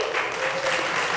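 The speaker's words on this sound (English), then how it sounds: "One more round of applause for Mellanox" A conference audience at a networking developers' talk gives a brief, dense round of applause, a steady wash of clapping that lasts only about a second.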